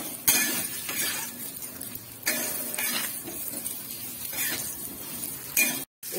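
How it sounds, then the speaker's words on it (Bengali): Three cut potatoes frying in a pan, steady oil sizzle with a spatula stirring and clinking against the metal in bursts, close by and without talk. "3টে আলু ভেজে নিচ্ছি"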